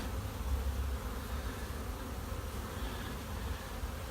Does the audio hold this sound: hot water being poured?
no